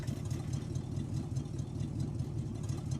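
A van's cold engine idles after starting, producing a steady, low, rumbling drone that stays even and fairly quiet throughout without any talking.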